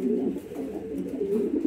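Red Lahori show king pigeons coo at a fancy pigeon farm, a low rolling cooing close by and continuous across the short stretch, with no talking.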